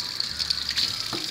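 Pumpkin pieces are rinsed under running water to wash off slaked lime, a steady close hiss of flowing water that continues without a break and with no talk.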